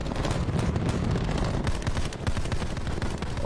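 Rapid gunfire from a shooter video game, dense bursts of automatic shots rattling continuously and loudly throughout with no pauses.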